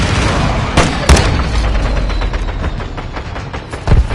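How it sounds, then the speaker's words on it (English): Mortar strike explosions in Call of Duty Modern Warfare 2 boom through a dense, rumbling battlefield din, with sharp impacts near the one-second mark and again near the end over continuous low roar. "Hostile mortar strike in the area."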